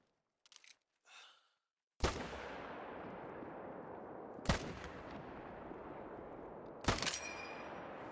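A scoped hunting rifle fired in the video game theHunter: Call of the Wild. Three loud, sharp shots come a few seconds apart, each trailing off in a long rolling echo, after a few faint soft sounds.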